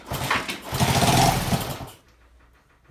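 A Honda S90 motorcycle engine, unstarted for decades, fires on choke with a rapid buzzy sputter for about two seconds, then cuts out, leaving a faint low idle-like rumble.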